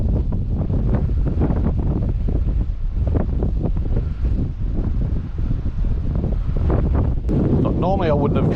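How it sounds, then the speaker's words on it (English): Gusty wind batters a microphone outdoors in a continuous, loud, low rumble that pulses irregularly throughout, with a brief voice-like sound near the end. "it's a bit windy"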